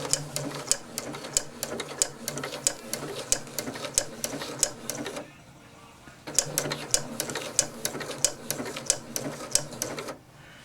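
A Janome 8077 sewing machine sews a decorative flower stitch in two bursts of rhythmic, clattering needle strokes, close and moderately loud, each run followed by a short quiet pause.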